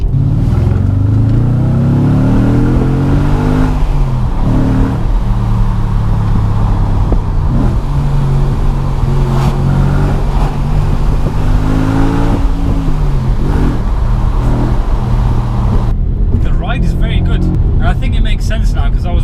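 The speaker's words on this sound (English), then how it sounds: "It just literally wants you to keep revving, man." An Audi RS4 B7 being driven hard, its engine repeatedly revving up through rising tones and dropping back between shifts, loud from inside the car, with someone talking over it.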